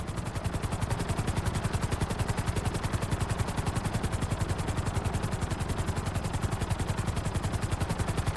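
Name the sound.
helicopter flying in video game Grand Theft Auto 5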